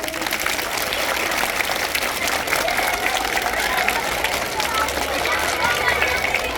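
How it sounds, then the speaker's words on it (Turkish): Sustained, vigorous applause from a large group at a primary school welcoming first graders, a dense wash of many hands clapping at once, with faint crowd murmur beneath. "Biz de alkışlayalım kuvvetlice."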